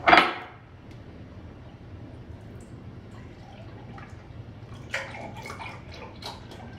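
A cup of coconut milk poured for a vegan curry: a brief splashing pour at the start, then a quiet stretch with faint drips and light clinks of a cup or utensils nearby.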